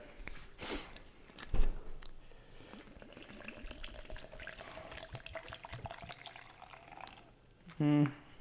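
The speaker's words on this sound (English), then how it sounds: "Dump some water in there." Water being dumped into a container in a kitchen, intermittent pouring and trickling with a few knocks and clunks, while a person talks at times.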